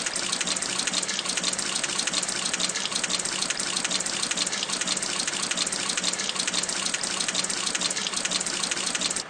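Water running steadily in a tree-planting video game as a replanted tree is watered, a continuous gushing stream with no break and no voices.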